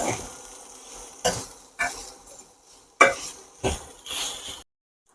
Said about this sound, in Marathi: मस्त असं आपण चमच्याने परतून घेऊया